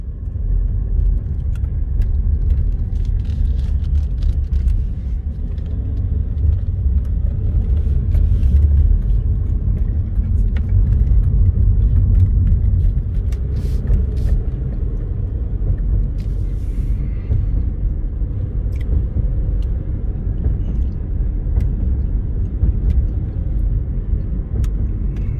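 A car drives through a master-planned residential community, a steady low engine and road rumble filling the cabin throughout, with faint rattles and no talk.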